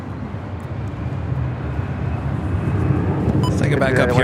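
Rising roar of a United heavy airliner taking off from runway 25 right at Los Angeles International Airport, a broad jet rumble that builds steadily, with radio chatter cutting in near the end.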